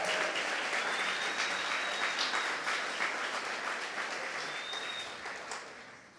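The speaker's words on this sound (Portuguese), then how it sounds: "Se o aplauso é para Jesus, pode ser mais bonito, pode ser mais forte" A church congregation applauds in a dense, sustained round of clapping that stays loud and steady throughout, tapering slightly toward the end.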